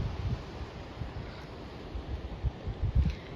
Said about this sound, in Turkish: Dalgaların sesini duyuyor musun?